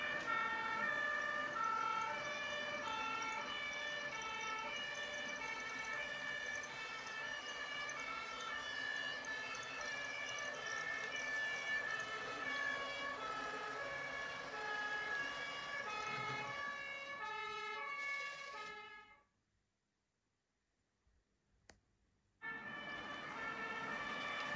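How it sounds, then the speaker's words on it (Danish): Ambulance siren on a model road diorama with a Magnorail system, a loud repeating two-tone wail running steadily for most of the stretch, then cutting out abruptly before a brief return. "Vi må have fat i en ambulance."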